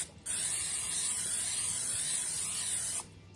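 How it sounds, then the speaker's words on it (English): Cooking spray hisses from a can into a cast iron pan for baking cinnamon rolls made with canned biscuits, one continuous close spray of about three seconds starting and stopping abruptly. "So we got to spray it."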